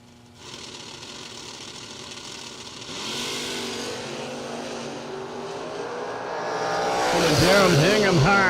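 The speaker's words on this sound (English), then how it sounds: "Mark Mullen in the Vega on the left side, 543 the dial in." Chevrolet Vega and Camaro drag race cars roar down the strip, their engines rising in pitch and swelling louder toward the end as they accelerate, with an announcer talking over them.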